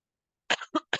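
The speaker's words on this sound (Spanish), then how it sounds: "Disculpen por la tos, ando un poco enfermo." Three short, sharp coughs in quick succession after a moment of silence, close and fairly loud.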